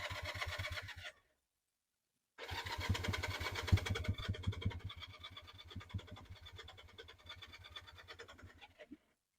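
Honda CB175 motorcycle engine cranking with the choke on, sputtering briefly, cutting out, then catching and running in a rough, uneven idle with rapid firing pulses, close and fairly loud.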